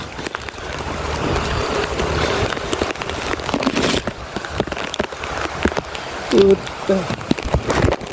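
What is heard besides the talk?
rain falling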